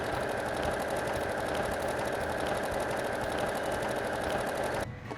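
A sewing machine stitches a buttonhole with a steady, close, rapid whirring hum that runs without pause and stops just before the end.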